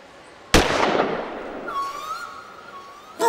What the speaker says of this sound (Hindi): लोग पटाखे फोड़ रहे होंगे